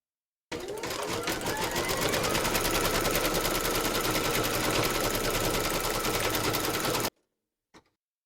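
An embroidery machine stitches the outline of a teddy's head, securing the backing fabric in a rapid, even needle rattle for about six and a half seconds. It stops abruptly, followed by a faint brief click.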